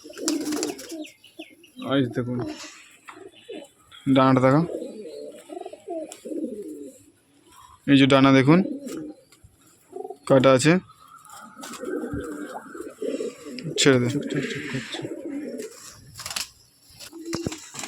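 Several domestic pigeons coo in low, throaty rolling bursts at close range, spaced through the stretch, while someone talks over and between them.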